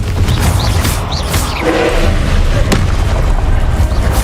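A Confringo fire spell explodes in the Hogwarts Legacy video game, giving a loud, heavy boom with a sustained rumbling roar and crackle that fills the whole moment.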